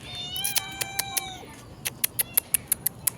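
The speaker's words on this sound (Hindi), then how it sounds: "सामने देखिए छोटी वाली बिल्ली दूध ढूंढ रही है" A small cat meows repeatedly in a high, clear voice while searching for milk indoors, with a few drawn-out cries followed by a quick run of short, evenly spaced chirping mews, close and fairly loud.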